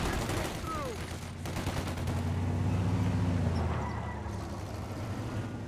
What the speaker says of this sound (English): Those Thompsons doing some big damage